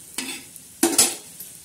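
Masala being stirred and roasted in a pan, two short scraping, sizzling strokes of a spoon against the pan, separated by quiet, close and fairly crisp.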